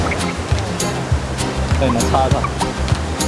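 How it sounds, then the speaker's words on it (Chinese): A tall waterfall throws a constant roaring, hissing spray over the whole stretch, with people talking over it. "就是口若悬河的具象化，就是这条瀑布。"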